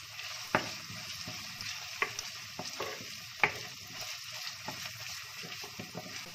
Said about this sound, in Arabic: هنا كما راكم تشوفوا تقلى هكذا، ونقليوه مليح